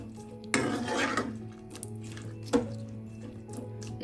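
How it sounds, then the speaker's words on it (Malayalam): Chickpea curry, Kerala-style kadala curry, being stirred in a pot: a spoon scrapes and knocks against the metal in two distinct bursts, with a soft clink, close and moderately loud, over a low kitchen hum. "കറി ഒന്ന് ഇളക്കി കൊടുക്കാം"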